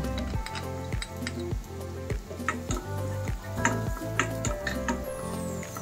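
Onions sizzle in a hot pan while a utensil stirs them, with a steady frying hiss under regular scraping and clinking strokes against the pan, close up and fairly even in loudness, no voices.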